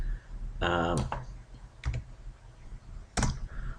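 Keystrokes on a computer keyboard entering a duration value, a few separated clicks and a brief burst of taps heard up close, with speech-like murmur around them.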